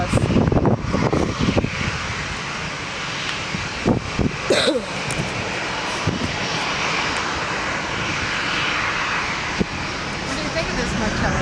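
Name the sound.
Lufthansa Airbus A340 airplane flying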